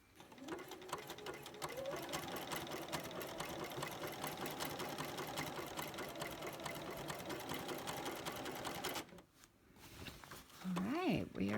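A sewing machine stitches appliqué onto a quilt in a fast, continuous whir for about nine seconds, then stops abruptly before a brief restart, fairly quiet and close.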